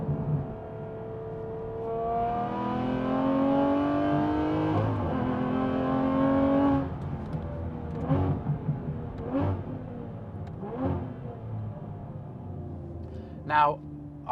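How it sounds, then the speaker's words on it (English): A deep Aston Martin V12 Vantage engine revs up with a rising harmonic whine, then drops off into a burbling exhaust with quick speed-matched downshift throttle blips and pops from its 7-speed gearbox, recorded close. "That speed matched blip downshift is what the 7-speed's all about."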